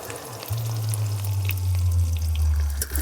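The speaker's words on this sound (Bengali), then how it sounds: "লঙ্কা গুঁড়ো দেওয়ার পর বেশ তেলের সঙ্গে একটু ভালো করে কষিয়ে নেব।" Chilli powder and ground spices frying in oil for mutton ghugni, a steady close sizzle with a low rumbling undertone that starts abruptly and continues without pause.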